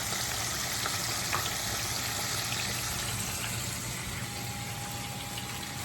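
Chicken pieces for a crispy fried chicken burger fry in hot oil, giving a steady, close, broadband sizzle with faint crackles that holds evenly throughout, with no talking.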